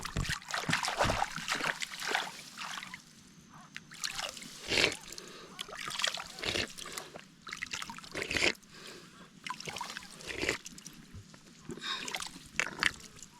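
Water trickles and splashes in uneven bursts as a person drinks straight from a fresh village spring, with close slurps and splashing over a faint steady flow.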